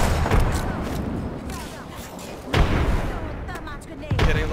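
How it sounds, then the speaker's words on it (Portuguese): Grenades blow up in the battle royale shooter Apex Legends, with three heavy booming blasts at uneven intervals rising over a dense, rumbling bed of gunfire and game noise. "Granadas lá para o meio."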